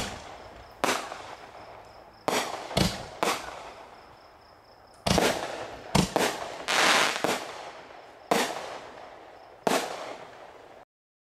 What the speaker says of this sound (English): It breaks, then it drops about 10 feet and breaks again.